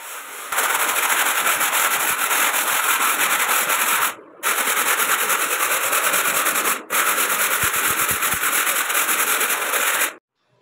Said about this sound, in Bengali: এই ব্লেড দিয়ে এভাবে দেওয়ালের সঙ্গে ভালো করে চাপ দিয়ে ঘষে পরিষ্কার করতে হবে